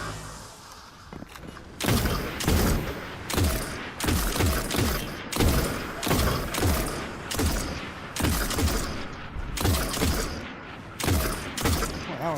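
Rapid bursts of gunfire in the Destiny: Rise of Iron video game, loud and close, coming in rhythmic volleys of repeated shots for the whole stretch.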